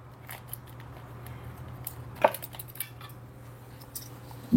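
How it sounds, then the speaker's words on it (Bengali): Two metal spoons are set down with coffee cups in a café, making light clinks and a sharp tap against a steady low hum, with small scattered clatter around them. "এই যে 2টা চামচ দিয়ে দিলাম।"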